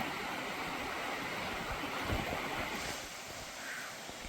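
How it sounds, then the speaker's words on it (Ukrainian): A small mountain stream runs out from under a stone on a rocky slope near 2000 metres, a faint, steady trickling hiss with some wind in the background. "Прямо з-під камня тече маленький струмочок."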